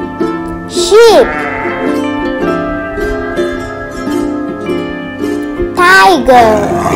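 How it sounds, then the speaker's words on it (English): Two loud wavering bleats from a sheep, one near the start and one near the end, with a steady droning musical tone running underneath. "Sheep."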